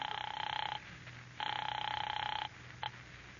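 An old telephone bell rings as a radio show sound effect, two long buzzing rings with a short pause between them and a brief third burst, faint under light hiss.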